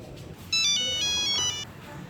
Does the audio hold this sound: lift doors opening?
no